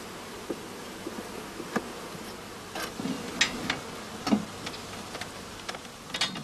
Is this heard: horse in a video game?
no